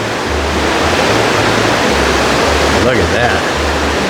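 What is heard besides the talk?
raging river near Little Huson Caves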